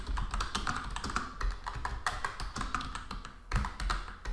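Fingers type rapidly on a computer keyboard, entering an e-mail address in a dense, continuous patter of close, crisp key clicks with a few heavier strikes and no talk.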